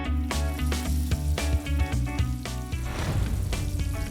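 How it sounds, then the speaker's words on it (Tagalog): A whole duck deep-frying in hot oil in Angono, Rizal gives off a loud, continuous close-up sizzle and crackle that grows busier in the last second, with music playing along. "Dito sa Angono, piniprito ng buo ang katawan ng itik."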